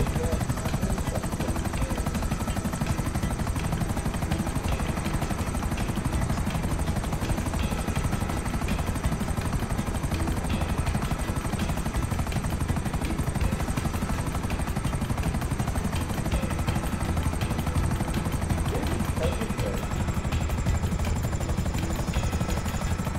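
Continuous, loud whirring helicopter rotor and engine drone in GTA Online, steady throughout with no pauses.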